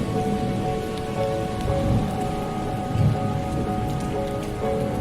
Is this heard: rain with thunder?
yes